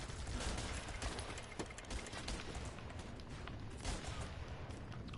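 Dense, continuous machine gun fire and overlapping shots rattle nonstop in the strategy video game Guns Up, forming a busy, loud battle texture with no clear pauses.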